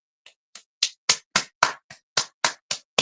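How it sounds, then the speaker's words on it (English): A single person clapping about a dozen times on a morning radio show, sharp and close, speeding up slightly from sparse claps to a steady beat, alone without talk. "Let's give a round of applause to LaShawn Haynes Jones."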